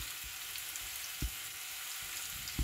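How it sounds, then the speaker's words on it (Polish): Seasoned chicken fries in hot oil in a pan with a soft, steady sizzle and a couple of brief clatters. No one speaks. "wrzucamy na patelnię i smażymy."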